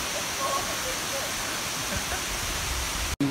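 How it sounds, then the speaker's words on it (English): Rushing water at the top of the Kuang Si waterfall near Luang Prabang, a dense, steady broadband roar filling the clip, loud and close, cut off abruptly near the end. "we're walking here on the top of the waterfall"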